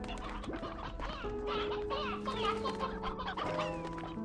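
Briar hens in the video game Slime Rancher 2 cluck and squawk in a dense, overlapping flock, with short repeated calls close by over steady game ambience.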